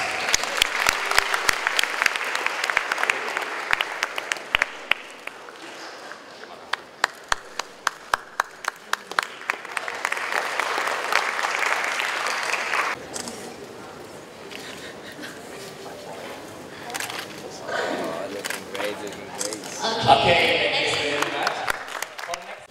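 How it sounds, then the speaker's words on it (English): An audience applauds at the opening of the 2015 FEALAC Asia–Latin America youth conference in Bandung, Indonesia. Sharp, rhythmic claps swell into sustained applause that fades and returns, with voices briefly audible. "Give applause."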